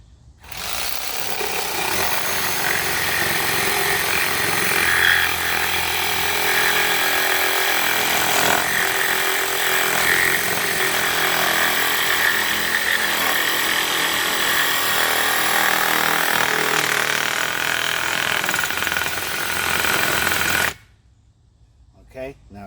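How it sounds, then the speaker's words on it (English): Saber saw cutting through wood on a Worx Pegasus folding sawhorse workstation, a loud, continuous buzzing rasp up close that runs steadily for about twenty seconds and then stops abruptly. "Now we're going to do saber saw."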